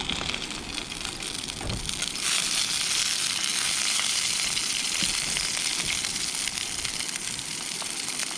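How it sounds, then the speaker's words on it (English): Black pudding, square sausage and ordinary sausages sizzling in a pan on a camping stove outdoors, a steady loud crackling hiss that swells after the first couple of seconds, with no talking. "We have some black pudding, then we have a square sausage, and we have some normal sausages."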